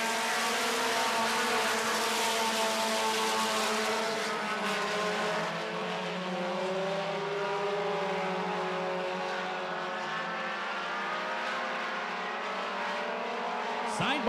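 Four-cylinder stock cars race on an oval track in a heat, their engines droning loud and sustained as several cars run close together, the pitch rising and falling with the laps.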